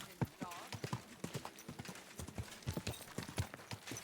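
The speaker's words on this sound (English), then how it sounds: "I'm on a horse." Horse hooves clip-clop along a road in Kingdom Come: Deliverance 2, a steady trotting rhythm of sharp, close hoofbeats with speech over it.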